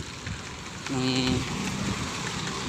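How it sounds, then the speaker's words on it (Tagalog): Rain hisses steadily on a wet road in a constant broadband wash as a commuter travels home, with a short electronic tone rising briefly above it partway through. "umuulan na"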